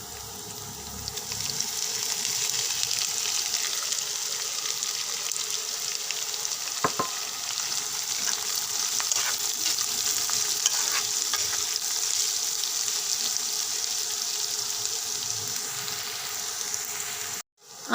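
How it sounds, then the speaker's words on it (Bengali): Chopped onion, garlic and green chilli frying in a pan give a steady, close sizzle that holds evenly for the whole stretch, with a few soft stirring clicks and no voices. "কাঁচামরিচ, পেঁয়াজ, রসুন একটু ভালোভাবে ভেজে নেব।"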